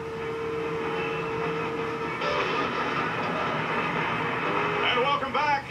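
A train on the Texas State Railroad sits before a live televised head-on motorcycle jump, producing a steady rumbling, mechanical drone with some talking in the background.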